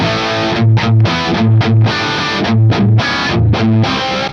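Heavily distorted electric guitar through a Rectifier amp and a bone-dry impulse response, playing chunky, palm-muted riffs with no room ambience, loud and dry, chords stopping and starting in a steady rhythm.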